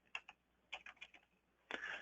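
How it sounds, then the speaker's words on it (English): Computer keyboard keys tapped while tabbing through an online form, a few quiet separate clicks followed by a quick cluster of keystrokes, close and faint with no talking. "I am just tabbing through with my keyboard"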